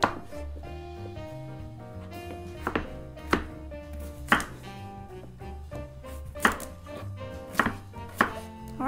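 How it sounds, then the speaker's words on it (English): Potatoes being chopped with a knife for a 1940s Lord Woolton pie, a steady series of sharp knife strikes on a board, loud and close, over background music with no talk. "I'm just gonna chop these up"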